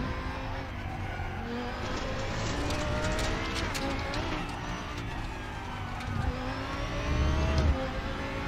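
A car in a racing video game, driven with a PXN PDHM Gen2 steering wheel, accelerates and revs steadily with brief tire squeals, engine noise dominant and no talk.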